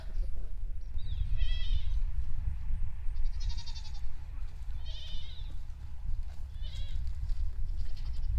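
Nigerian Dwarf goat bleats ring out four or five times at spaced intervals over a steady low rumble of background noise, fairly distant and moderately loud.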